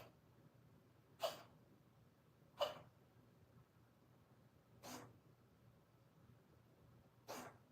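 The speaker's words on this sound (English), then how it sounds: "Are you just sneezing, or are you gonna?" A cat named Smudge sneezes four times, the sharp bursts spaced a second or more apart in a quiet room and heard close by.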